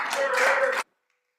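Brief burst of applause for the Senate staff in a Senate floor session, dense clapping for under a second before cutting off abruptly to silence.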